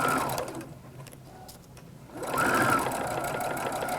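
A sewing machine runs a steady quarter-inch seam along the bottom of a fabric tote bag in a fast, even mechanical whir. It slows briefly in the middle, then picks up again.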